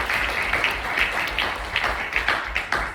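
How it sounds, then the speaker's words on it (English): Audience at a campus talk by a Holocaust survivor giving a round of applause, steady clapping from a moderate-sized crowd at middle distance, with a few louder individual claps standing out. "a very big round of applause for Robert and Rayan"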